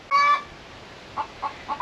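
Chickens near a caged rooster run on a tropical Far North Queensland property give a loud opening cluck, then three softer clucks spaced apart and a final loud call, with no voices.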